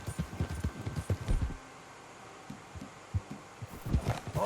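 Rhythmic clip-clop of horse hooves in the video game Red Dead Redemption 2, a steady trotting beat that pauses briefly midway and then resumes.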